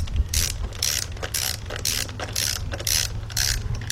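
A ratchet wrench tightens nuts on engine bolts of a 2006 Kia Sportage 2.7, giving rapid, crisp clicking in regular back-and-forth strokes, close and loud, with about seven quick bursts.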